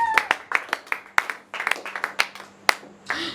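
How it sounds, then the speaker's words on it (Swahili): A church congregation at a Christmas service claps in a burst of sharp, separate hand claps, loose and uneven in rhythm and fairly close, with no talking over them. "Na kama unaamini, mchapie Yesu makofi."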